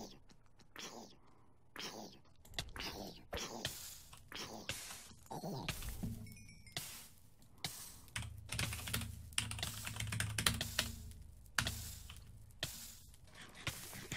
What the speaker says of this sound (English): Oh, I love this new keyboard though.